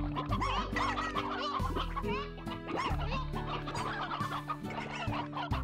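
A flock of chickens in the video game Slime Rancher clucks continuously and excitedly, many short calls overlapping at close range, with a faint voice at moments.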